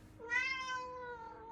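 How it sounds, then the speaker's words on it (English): A single cat meow, drawn out and fairly clear, rising then slowly falling over about a second, close but quiet. "Oh, kitty."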